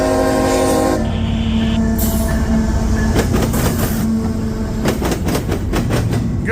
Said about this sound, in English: now we have a CSX coming westbound, crossing the Galatea crossing here